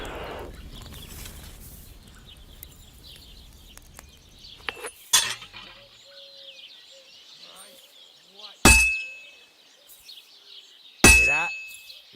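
A blacksmith's hammer striking an anvil in the medieval game Kingdom Come Deliverance II: a few sharp metallic clangs that ring out, heard over faint ambient background and distant birdsong.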